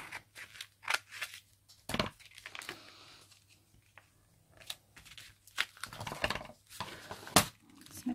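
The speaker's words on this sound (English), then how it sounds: "I might just snip" Scissors snip through a handmade shabby chic paper envelope in short, crisp cuts that come in irregular bursts with quiet gaps between them, all close and fairly faint.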